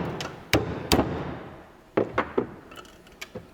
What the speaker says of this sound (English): I wouldn't normally knock this apart with a socket and a hammer